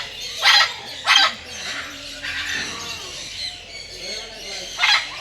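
Birds call in Nahar Garden, a park where peacocks roam: three loud, sharp cries stand out at the start and near the end, with softer chatter and a faint voice between them.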